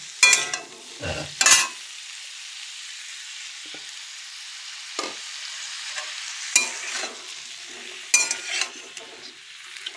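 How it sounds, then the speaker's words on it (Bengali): Potatoes and cauliflower frying in a pan are stirred over a soft steady sizzle, with several distinct scraping strokes of the spoon, close and clear, and no talking. "আলু আর ফুলকপি একটু ভালো করে নাড়াচাড়া করবো"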